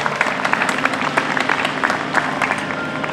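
Audience applause at a Red Wing League of Women Voters candidate forum for mayor and city council after candidate introductions, a steady mid-distance patter of many hands clapping with no talking.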